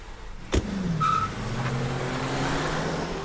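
A car engine runs steadily at close range, with a sharp thump near the start and a low drone that holds and gently rises as the vehicle pulls away, in a rural village setting.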